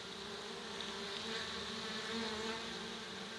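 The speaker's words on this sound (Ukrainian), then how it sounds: "почали пчелки заходити" Buckfast honeybees buzz at the entrance of a small mating nucleus hive, a steady continuous hum close by with no voices.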